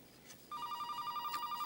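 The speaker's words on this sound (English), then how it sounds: "Keith, it's Donna on the phone." A telephone rings indoors in a home, starting after a brief hush with a steady, warbling electronic ring that pulses evenly and stays moderately loud, with no one talking over it.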